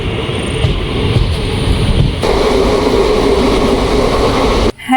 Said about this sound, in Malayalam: മംഗലാപുരം വരെ പോകുന്ന മലബാർ എക്സ്പ്രസ് ചെങ്ങന്നൂർ സ്റ്റേഷൻ.